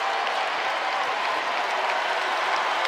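A basketball arena crowd at a North Carolina vs Johnson C. Smith exhibition game cheers and applauds in a dense, continuous wash of clapping and roar.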